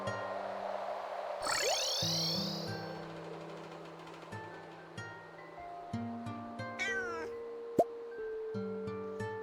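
A cartoonish cat meows in the video game Stardew Valley, a short rising-and-falling cry over soft game music and ambient chimes, with a few other brief game effects following.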